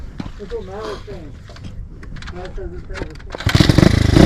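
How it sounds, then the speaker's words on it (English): A motorcycle on brand-new tires on an ice track revs hard as the throttle opens, a loud close engine roar rising near the end, with talking and voices over the low idle beforehand. "Crack that throttle."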